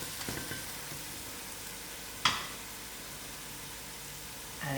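Masala for a hot, dry venison curry fries in a pot, a soft steady sizzle with one sharp clink of a utensil in the middle and a slight rise in crackle at the end.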